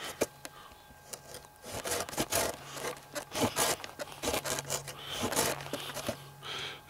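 Fiskars folding saw cutting through hard, dry wood, irregular rasping strokes with a faint steady hum underneath, close and moderately loud with uneven rhythm as the blade catches.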